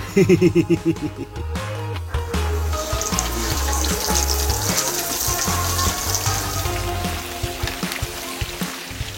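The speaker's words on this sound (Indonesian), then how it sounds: "Langsung aja kita kasih berenang ayamnya dalam minyak." A whole chicken lowered into hot frying oil in a kitchen: a few gurgling bubbles at first, then a steady, close crackling sizzle that continues alone.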